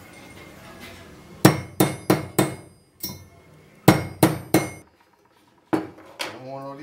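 A metal tube is hammered flat in sharp, ringing blows, delivered in two quick bursts of four strikes each, then a couple of looser hits, loud and close with quiet gaps between.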